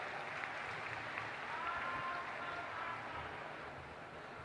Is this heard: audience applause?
yes